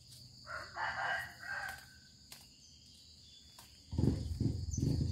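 A rooster crows once at a moderate distance, faint and drawn out, followed by a few low, dull thumps nearby.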